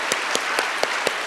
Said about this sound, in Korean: 감사의 박수 다시 한번 크게 드리겠습니다